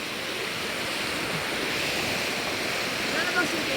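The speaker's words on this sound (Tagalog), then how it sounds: "Mahangin lang talaga," Wind blows hard and constantly at the sea, a loud broad rush mixed with the surge of surf and no speech over it.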